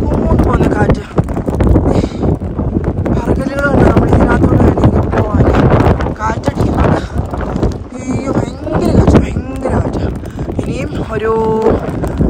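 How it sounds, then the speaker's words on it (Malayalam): Strong wind gusts over a rocky mountain trail on the way to Everest Base Camp, buffeting the microphone with a loud roar that sits under nearly continuous close talking. "ഭയങ്കര കാറ്റ്, സൗണ്ട് കേൾക്കാമല്ലോ."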